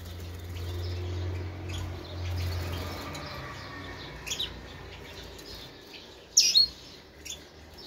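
Small birds in a modest aviary give faint, scattered chirps and tweets over a low background hum. A few sharper calls stand out near the end.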